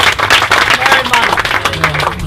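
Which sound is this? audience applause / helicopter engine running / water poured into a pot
audience applause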